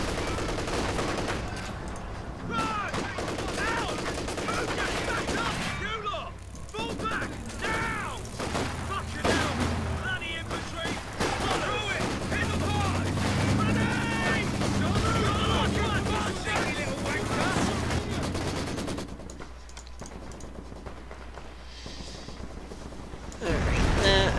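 Mortar blasts and gunfire in a war strategy video game: dense rattling bursts and sharp mechanical clicks run throughout, with thuds and a steady low rumble beneath, alone without speech.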